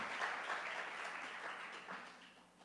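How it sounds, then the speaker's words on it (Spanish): A church congregation applauds God during a sermon, a soft, distant wash of many hands clapping that stays even and fairly faint throughout before tapering off. "Dale un aplauso al Señor, que ahí puede ir un aplauso sin problema."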